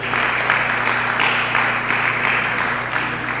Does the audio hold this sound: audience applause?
yes